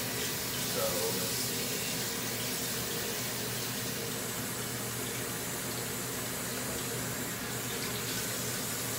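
Lukewarm water runs steadily from a tap into a sink, a continuous broadband rush with no pauses, heard close and alone.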